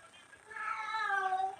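A pet cat yowls in a drawn-out, rising and falling meow lasting over a second, fairly close and moderately loud, with no speech over it.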